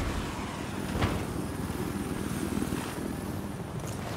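A helicopter in the video game Battlefield 4 drones steadily with a continuous rotor and engine hum at moderate level, alone without talk.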